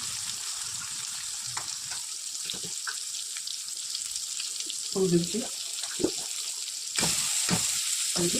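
Steady hiss of eggplant frying in hot fish oil with salt and turmeric runs throughout, with a few clinks of stirring and someone talking over it.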